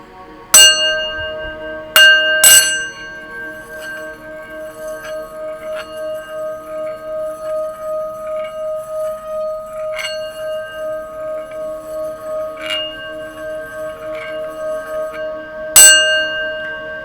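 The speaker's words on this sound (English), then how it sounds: "was doing the sound bowl and I felt a shift of energy" A singing bowl is struck several times, each loud metallic strike ringing into a long, steady, pulsing hum that sustains between hits, close and otherwise quiet.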